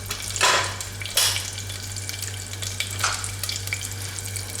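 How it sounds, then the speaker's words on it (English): Mustard seeds and cumin sizzle in hot sesame oil, giving a steady crackling fry broken by a few sharp popping bursts, with a low constant hum underneath. "Now I'm adding 1 spoonful, this spoonful of mustard seeds, 1 spoonful of jeera cumin"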